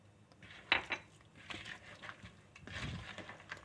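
Vanilla being stirred into apple cookie dough in a bowl, a few close clinks and scrapes of a utensil against the bowl followed by softer mixing sounds, fairly quiet, with no speech.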